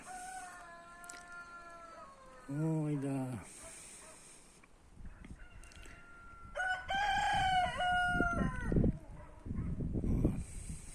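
Rooster crowing close by, one long crow early and another later, with someone speaking in between and over the calls.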